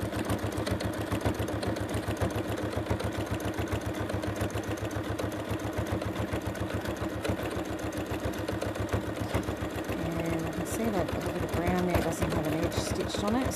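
A sewing machine stitches back and forth over collage-pieced fabric, running as a steady, rapid, close mechanical whirr that continues without pause.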